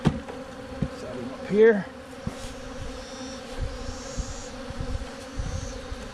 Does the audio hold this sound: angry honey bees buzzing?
yes